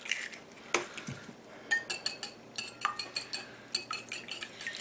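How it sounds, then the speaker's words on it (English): A cracked egg goes into a mixing bowl holding an extra egg white while making a cauliflower pizza crust, with a run of light clinks and taps against the bowl close by, no talking. "So I'm going to put my other egg in here."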